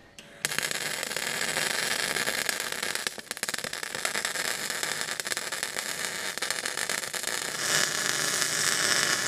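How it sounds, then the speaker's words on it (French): An arc welder builds up weld beads on a worn combine harvester conveyor plate, giving a continuous harsh crackling hiss that runs steadily and close for several seconds after a brief quiet start. "je vais recharger avec le poste à souder, mettre des filets de soudure"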